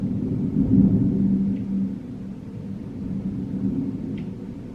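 Low, continuous rumble of a thunderstorm heard from a hotel bed in Orlando in August, a broad distant roll swelling early and slowly fading, with no talk.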